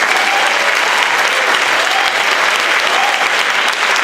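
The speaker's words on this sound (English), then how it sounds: "So thanks, and applaud these guys." Loud, continuous applause from an audience honoring graduating high school band seniors, many hands clapping close by, with faint crowd voices underneath.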